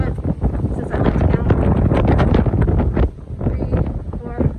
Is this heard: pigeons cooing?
no